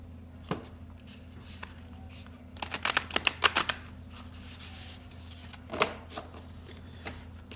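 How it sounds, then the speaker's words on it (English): Large tarot cards being shuffled, a short burst of rapid papery riffling in the middle with a few softer card taps before and after, close and fairly quiet over a low steady hum. "but I'd like to shuffle a couple more times."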